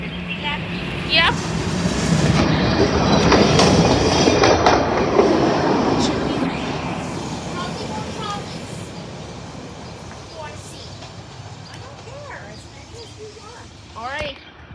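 A westbound commuter train, number 108, rumbles past at Drexel Park, a loud rolling roar with clattering wheels and a brief squeal that fades gradually, while people talk nearby.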